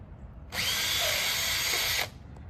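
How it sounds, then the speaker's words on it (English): A power drill whirs at high speed through a rubber hockey puck for about a second and a half, starting and stopping abruptly against a quiet background. "I pre-drilled it with a 3/16, and then I drill it with a"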